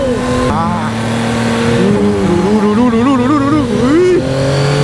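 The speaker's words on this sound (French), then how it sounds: "On fait des coups de gaz." Yamaha MT09 motorcycle with an automatic gearbox blipping its throttle, the engine pitch rising and falling in several quick rev sweeps, loud and close, with a voice briefly over it.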